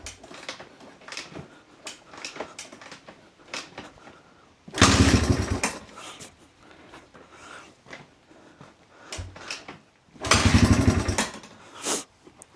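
A Honda XR200R dirt bike with a slipping clutch being kicked over, with scattered mechanical clicks and two loud, brief, rough engine bursts, each lasting about a second and a half, that die away without settling into a steady idle.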